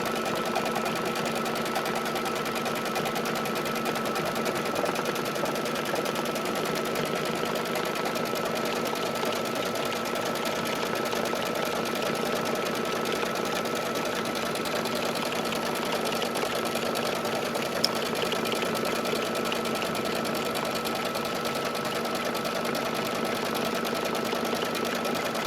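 Embroidery machine stitching a quilted basket in the hoop, a continuous rapid mechanical hum and needle chatter holding at a steady level for the whole stretch.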